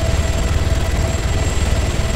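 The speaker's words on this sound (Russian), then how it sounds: "на клавишу X нажимаете, и он зависает в воздухе вертолет" Helicopter hovering in ARMA 3, a loud steady rotor thump and low engine drone with a constant whine above it, close and continuous.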